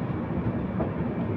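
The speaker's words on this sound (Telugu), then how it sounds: "స్లోగా అయితే ప్లాట్ఫామ్లోకి అయితే తీసుకెళ్తున్నాడు." The Dharmavaram Express rolls slowly into a station platform near Gudivada with a low, rumbling, continuous rail noise and a faint rhythmic wheel clatter, heard up close and steady.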